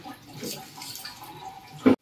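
Cold water is poured into a wok holding boiled eggs, a soft splashing trickle that keeps on steadily and ends in a short louder splash before cutting off.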